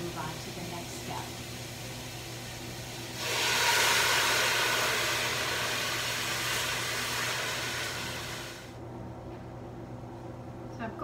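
A cup of red wine reducing in a cooking pan, a burst of loud sizzling hiss as it hits the heat that holds for several seconds and then fades, over a steady low kitchen hum.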